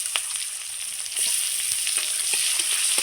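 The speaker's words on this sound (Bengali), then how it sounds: "এবারে পেঁয়াজ কুচানো দিয়ে দিচ্ছি।" Chopped onions are added to hot oil left over from frying fish, with bay leaves and five-spice seeds, for a rohu fish head curry. They give a close, steady, bright sizzle that swells after a moment, with no voices.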